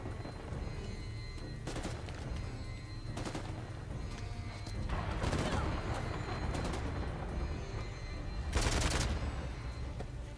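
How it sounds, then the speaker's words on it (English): Gunfire in the video game Uncharted: The Lost Legacy, with steady game noise broken by several loud bursts of shots, the strongest near the end, and no talking. "Oh, I was trying to shoot my partner."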